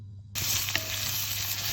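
Garlic and vegetables, parsley root and carrot, start to sizzle in oil in a pan, a sudden hiss that holds steady and close after they drop in.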